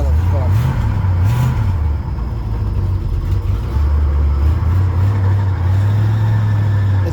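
A car with a 301 engine idles and revs loudly nearby, a steady low rumble with a couple of rising throttle blips early on; a voice speaks over the engine.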